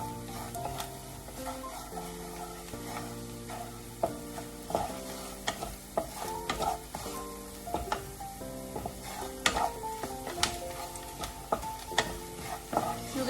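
Flour (maida) sautéed in a pan over a low flame for white sauce pasta: a soft, steady sizzle with repeated close scraping and tapping of a spoon as it is stirred, no voices.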